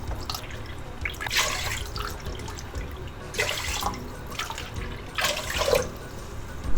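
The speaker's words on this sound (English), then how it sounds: "And then we're going to put about 5 times more water than the rice." Water poured onto rice in a pressure cooker for Japanese-style baby food porridge, heard as three separate splashing pours with short gaps between them over a steady background hiss.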